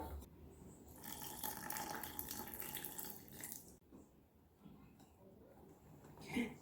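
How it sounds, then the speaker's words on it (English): Water poured a little at a time into chickpea flour in a high-sided bowl, a soft continuous trickle and splash up close, pausing briefly before resuming. "I want to add my water a little bit at a time"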